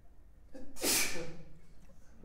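A single sharp, breathy sneeze bursts out nearby, followed by quiet breathing.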